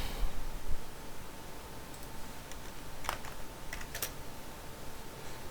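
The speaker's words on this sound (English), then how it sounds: "I'm gonna just type in Levi" Keys tapped on a computer keyboard in short, quiet bursts and isolated clicks over a steady low background hiss, with no voices present.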